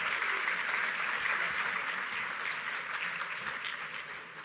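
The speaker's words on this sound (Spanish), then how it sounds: "Demos un aplauso al" A conference audience in Peru applauding a speaker, sustained dense clapping from many hands at a steady level, tapering slightly at the end.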